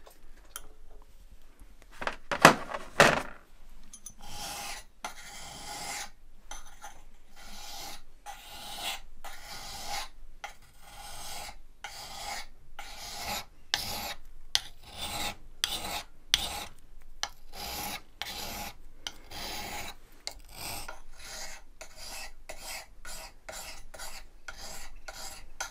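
Hand file sharpening the steel blades of an ice auger, unbolted from the auger head, in a cabin during winter: a steady run of rhythmic rasping strokes, close and fairly loud, with a few brief louder scrapes near the start and no talking.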